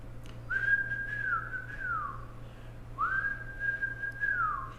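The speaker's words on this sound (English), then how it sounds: "And whistle." A person whistles as part of a kundalini yoga breathing exercise, two long sustained tones each ending in a downward slide, close and steady over a low constant hum.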